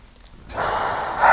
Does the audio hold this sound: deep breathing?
yes